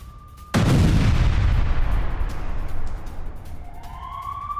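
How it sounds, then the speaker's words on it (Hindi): A single loud mortar launch by Al-Qassam Brigades in Gaza, a sharp heavy boom that rolls out into a long rumbling decay, followed later by a rising siren-like whine in the distance. "ये मोर्टार दागने की तस्वीरें इस वक्त आप देख रहे हैं"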